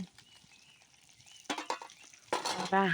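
Fish and onion frying in a pan at an outdoor family picnic, a soft sizzle under clinks and scraping of a utensil stirring, with louder clattering bursts toward the end.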